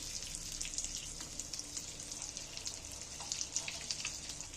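Eggs sizzle and fry in a pan, a steady close hiss with small crackles throughout and no talking.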